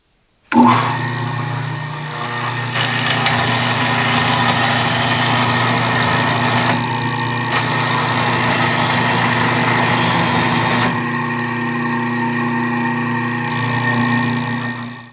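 A restored 1930s Craftsman bandsaw runs on its motor through a belt drive, giving a loud, steady mechanical hum with a faint whine that continues for about fourteen seconds and shifts tone slightly near the end.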